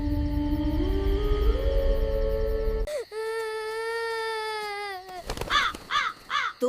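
A cartoon crow caws in a run of harsh, nasal calls, first over a loud blended background, then as sustained tonal caws and a burst of quick repeated cries near the end.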